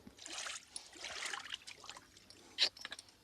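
Soft lapping and slurping of water as a horse drinks in short bursts, close and quiet, followed by a brief louder splash.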